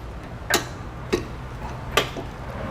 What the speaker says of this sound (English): Now tighten and torque all of your hardware to the specifications in your instructions